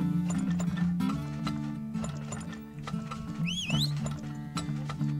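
Horses in the oil-drilling video game Turmoil, rhythmic clip-clopping hooves layered over looping game music, with a whinny partway through.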